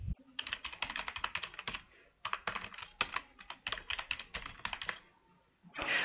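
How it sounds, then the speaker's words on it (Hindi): An email address is typed on a computer keyboard in quick, uneven bursts of crisp key clicks, close up and fairly quiet, with brief pauses between runs. "मैंने खुद का ईमेल आईडी टाइप कर दिया है"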